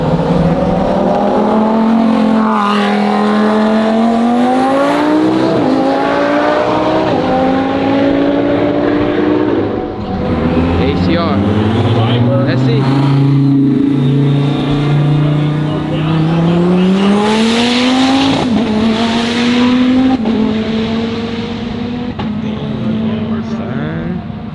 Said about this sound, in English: Oh, twin turbo Lambo versus the ACR, bro.